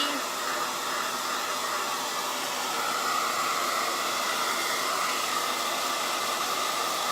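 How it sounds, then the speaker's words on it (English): A regular hair dryer blows steadily, drying freshly painted painter's tape; the loud, even rushing hiss runs unbroken from start to finish with no talk over it. "Vicky, this is just a regular blow dryer. A regular hair dryer."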